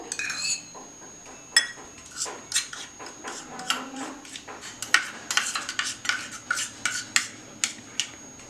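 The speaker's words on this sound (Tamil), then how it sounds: "எலுமிச்சை சாறை கொஞ்சம் கொஞ்சமாக ஆட் பண்ணி இந்த மாதிரி நல்லா மிக்ஸ் பண்ணிக்கணும்" A spoon mixing milk powder and lemon juice face pack in a bowl, giving repeated close scraping and clinking strokes in an uneven rhythm, with no voices.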